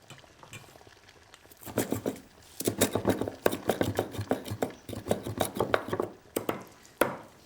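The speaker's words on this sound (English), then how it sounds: "I'm going to chop some coriander for later now" Fresh coriander chopped on a board with a knife, a quick irregular run of close, crisp thuds that starts after a quiet moment and keeps going, with no talking.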